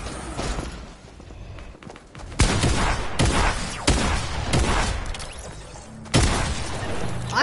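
Gunfire in the Fortnite video game, heard as a string of sharp single shots at irregular intervals, some loud and near and others softer, over a muffled in-game background without talk.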